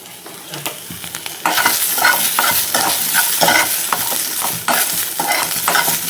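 Onions frying in a pan while being stirred, with a steady close sizzle and repeated scraping strokes of the spoon that grow louder and busier after the first second and a half.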